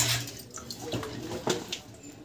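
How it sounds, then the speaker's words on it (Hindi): Leafy green onions are swished and dunked in a large tub of water, giving soft irregular splashes and sloshes with brief drips, close and fairly quiet, with no talking. "बड़े से टब में धोने का फ़ायदा यही होता है कि पानी में पूरे डूब डूब कर ही ये अच्छे से साफ़ भी हो जाते हैं ना"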